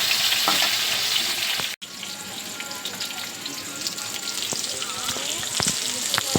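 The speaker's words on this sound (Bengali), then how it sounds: "আলুটাকে ভেজে নিচ্ছি" Loud, steady sizzle of potatoes frying in hot oil, close up, with occasional clinks and scraping of a utensil; a brief cut interrupts it early on.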